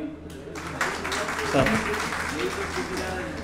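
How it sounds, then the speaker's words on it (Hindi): Audience members applaud at a workshop on documenting human rights violations and fact finding, a busy clatter of clapping with voices talking over it. "ज़ोरदार ताली"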